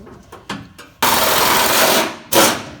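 Tools work at removing the bumper from a Dodge Ram pickup during a rocker repair, with a few short mechanical taps followed by two loud bursts of whirring power-tool noise close by.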